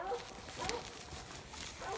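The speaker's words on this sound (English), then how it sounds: "Old hound dog's treed over there." A hound dog barks while treeing at night near a cattle farm, giving faint, distant barks over a low outdoor background.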